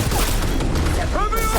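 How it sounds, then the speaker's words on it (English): Gunfire in the Cyberpunk 2077 video game strikes the player from behind as a loud, dense burst of booming shots that fills the whole short moment. "I'm getting shot from behind"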